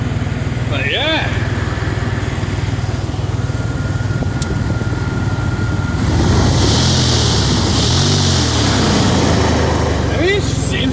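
A pickup truck engine with a cut sensor and check engine light on idles in a steady low rumble throughout, with someone talking over it and the engine note swelling a little partway through.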